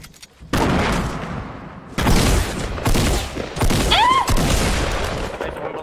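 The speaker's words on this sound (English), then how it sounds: "I'm terrible with the tac shotgun" Tactical shotgun blasts ring out in a video game, several loud booming shots in quick succession with a whistling sound effect in between and voices talking over the action.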